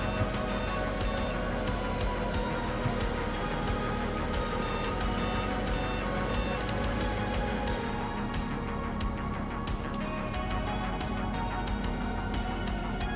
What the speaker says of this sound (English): 4 beeps again